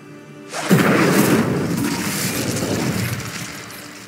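A fire spell cast in the video game Hogwarts Legacy bursts in with a loud whooshing roar of flame after a brief quiet start, then slowly dies down.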